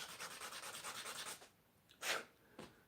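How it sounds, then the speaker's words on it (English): Small piece of beech wood rubbed back and forth on sanding paper for 1/12 scale dollhouse box work: a steady run of close, rhythmic gritty strokes, then a pause and a few separate short scrapes. "sand it a little bit on the sanding paper"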